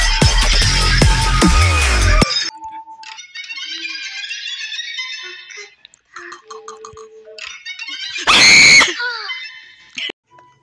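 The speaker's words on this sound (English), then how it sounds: "Now, why did I scream that loud?" A man lets out a loud, sudden scream, cut off abruptly, followed by quieter game sounds from Saiko no Sutoka and a second short burst of shouting.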